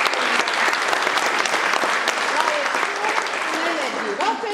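Audience applause fills a hall at the jubilee concert of a men's ensemble, dense steady clapping throughout, with a voice speaking over it near the end.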